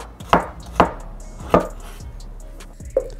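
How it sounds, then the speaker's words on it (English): Knife chopping a pickle on a cutting board, with four or five crisp, evenly spaced thuds and a light final tap, close and clear over a faint background hum. "For the sauce for the sandwich, chop up a pickle"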